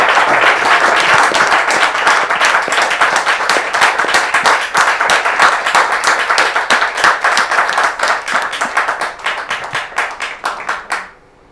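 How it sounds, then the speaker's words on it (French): An audience applauds during a French talk show, starting as a loud, dense burst of clapping that thins into fewer distinct claps and then stops abruptly near the end. "Est-ce qu'on peut applaudir"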